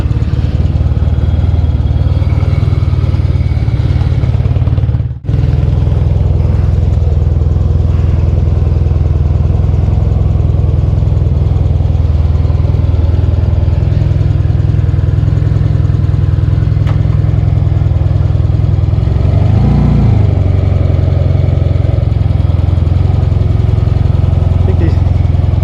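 A Yamaha XS2 motorcycle engine runs steadily after a carburetor adjustment, a loud continuous low idle with a brief dropout near the start and a slight swell later.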